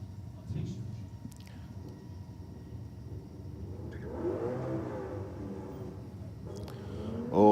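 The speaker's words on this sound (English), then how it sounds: "Oh, big free rev there, I think, out of the Statesman" A Holden Statesman at a drag strip free-revs its engine. The engine runs as a distant, low mid-pitched drone that swells into a rev, with crowd and ambient noise around it and a sharp sound at the very end.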